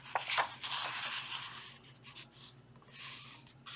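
Sheet of paper folded in half for a textured paper weaving craft, giving close, crisp rustling and rubbing that swells and fades over a few seconds, with a brief scraping crease near the end.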